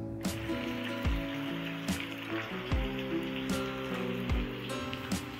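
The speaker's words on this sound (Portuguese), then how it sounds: "Ao cair da tarde, cai a chuva e lava meus pensamentos, minhas vontades," Rain falls in a steady, soft hiss beneath prominent background music with regular low beats, and no voices are heard.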